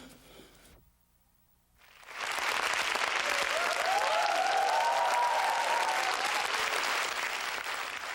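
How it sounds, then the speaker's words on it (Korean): A theatre audience breaks into applause at a curtain call, starting after a brief quiet moment and swelling into sustained, loud, dense clapping from a large crowd, with a few voices underneath. "쏟아지는 박수 소리와 함께 커튼콜이 계속됐다."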